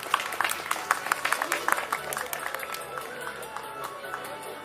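Audience applause at a Gothic Lolita costume contest during a Japanese culture convention, with dense clapping strongest at first and then tapering into a murmuring crowd, with voices under it.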